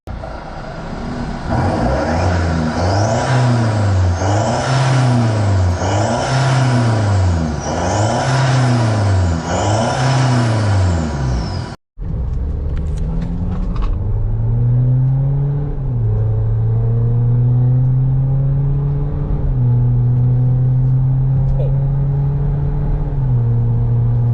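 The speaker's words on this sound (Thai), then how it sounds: "เดี๋ยวลองไปฟัง เสียงของชุดท่อเรากันนะฮะว่าชุดนี้ดังแบบไหนนะครับ" A BMW X5 diesel SUV with a stage 2 Euro Arts exhaust revs repeatedly in rhythmic surges, then after a brief cut it drones and climbs steadily, loud and close.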